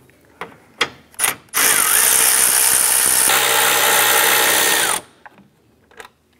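Power tool removing 10 mm radiator fan bolts on a 2004-2008 Acura TL: a few ratchet clicks, then a loud, continuous whirring drive for about three seconds before stopping, followed by faint clinks.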